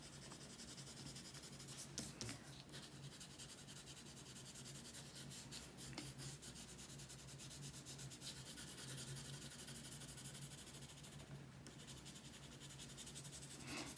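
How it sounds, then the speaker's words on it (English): Coloured pencil held on its side, shading broad strokes on paper for a still-life shadow: a steady, close, soft scratchy rubbing that runs continuously with small strokes and pauses, quiet and alone. "I'm still using the side of my color pencil"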